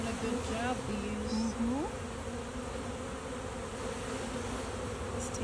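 Honey bees being released into a beehive hum in a dense, continuous close-up buzz, with individual bees zipping past near the listener.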